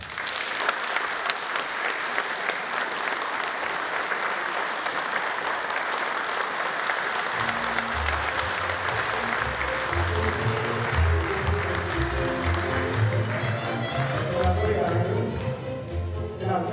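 Audience applause for a folk singer at a televised Romanian folk music show fills the whole stretch, a steady dense clapping that grows fuller and more rhythmic partway through, with brief speech mixed in.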